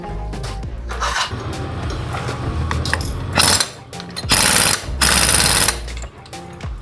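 Rapid hammering bursts of a pneumatic impact wrench tightening the clutch lock nut on a Honda Supra motorcycle, several loud, close rattling pulses in quick succession with no talking.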